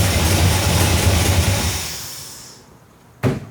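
A rough, rumbling El Camino engine with exhaust leaks runs loudly and then winds down to near quiet, followed by one sharp thump.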